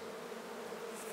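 Honeybees swarm thickly over a hive frame holding fresh willow nectar and pollen, a dense, steady, close-up drone that fills the whole stretch without a break.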